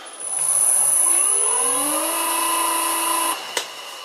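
A 12 mm bit drills a chuck wedge, a steady whining tone with rising harmonics running for about three seconds before cutting off, then a short clack.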